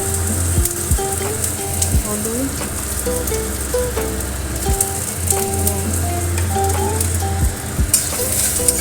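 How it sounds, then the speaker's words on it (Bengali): Olives fry in mustard oil with a tempering of mustard seeds and dried red chilli, giving a loud, steady crackling sizzle. Periodic scraping stir strokes cut through it up close, and a voice talks faintly beneath. "লঙ্কা কালো দিয়ে সর্ষে ফোড়ন দিয়ে জলপাই দিয়ে নাড়াচাড়া করছি"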